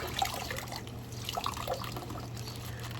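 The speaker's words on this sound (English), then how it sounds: "Pour some excess water out." Water poured out of a Venus flytrap's pot, a faint trickle and scattered drips over a steady low hum, quiet and close.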